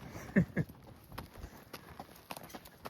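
A mare's hooves clop along a Colorado trail in spring in an uneven walking rhythm, a couple of heavier thuds standing out near the start, with faint outdoor rustle around them.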